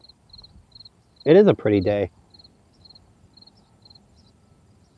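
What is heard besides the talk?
cricket chirping outdoors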